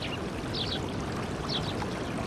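Water streaming steadily to flood rice paddies fed from Mount Ishizuchi in Ehime Prefecture, a continuous broadband rush at moderate level with a few faint high chirps above, no talk.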